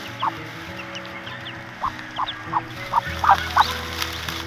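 Chickens and ducks on a free-range farm cluck and call in a series of short, clear bursts over a steady low background hum, growing a little louder and more frequent toward the end.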